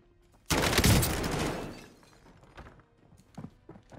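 A claymore mine detonates in Call of Duty Warzone with a sudden loud blast that decays over about a second and a half, followed by scattered smaller cracks and thuds.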